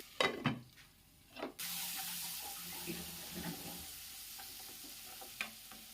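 Onions sautéing in a pan for matar paneer, covered to soften faster: a couple of sharp clinks and clatters of a lid or spoon at the start, then a steady soft sizzle with occasional light knocks and scrapes.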